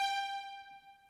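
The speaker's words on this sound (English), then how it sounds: "it's literally just a stab of a violin, I think." A short sampled violin stab: one bright, sustained string tone with rich overtones that holds steady and then fades, heard alone.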